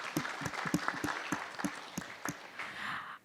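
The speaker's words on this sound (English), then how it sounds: "Please give a big round of applause for Anita, ladies and gentlemen." Conference audience at a women in construction event applauding, individual claps standing out sharply over a thinner background of clapping that softens toward the end.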